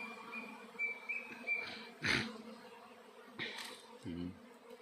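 A swarm of about fifty thousand honeybees crowding into a hive box entrance, a steady buzzing drone with scattered louder wingbeats and faint chirps over a low background hum.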